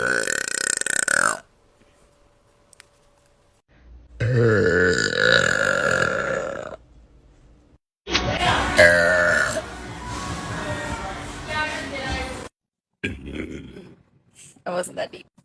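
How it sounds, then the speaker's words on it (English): A woman lets out several loud, drawn-out burps, close and raspy, separated by short silences, with a voice heard between them. "I can't burp that deep."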